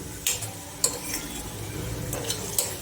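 Spoonfuls of coriander-cumin powder and garam masala being stirred into a Kathiyavadi veg Kolhapuri in a metal pan, with a few sharp clinks of utensil on metal over a faint sizzle.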